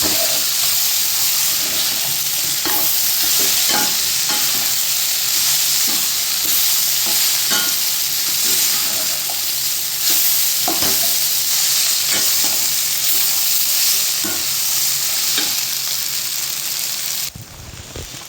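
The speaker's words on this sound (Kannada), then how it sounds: "ಇದಕ್ಕೆ ನಾನು ಪಾಸ್ತಾ ಹಾಕ್ತಾಯಿದ್ದೀನಿ. ನೋಡಿ ಈ ಥರ ಚೆನ್ನಾಗಿ ಕಲಿಸ್ಕೊಳ್ಳಿ." Pasta being stirred and tossed in a hot frying pan gives a steady, close sizzle with repeated scraping stir strokes throughout, and no talking.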